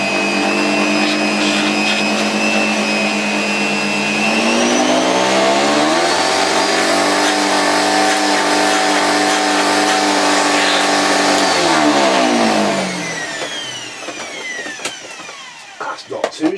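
A Panasonic MC-E42 electronic vacuum cleaner on low suction whirs up, holds a steady droning whine with a slight pitch rise midway, then winds down near the end into clattering handling noises.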